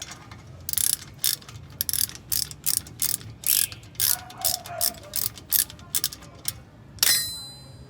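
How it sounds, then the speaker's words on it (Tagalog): A ratchet wrench working on a sticking brake caliper gives a dozen quick bursts of loud metallic clicking in a steady rhythm, close by, ending with a bright ringing clang. "gagamitan ko na ng ratchet"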